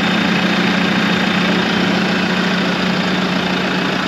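A steady 4-cylinder Case IH Luxxum tractor engine idles outdoors, a continuous low rumble with a constant hum and mechanical chatter, loud and close, with no talking.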